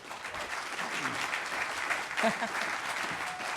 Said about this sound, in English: Give a big round of applause for the panel.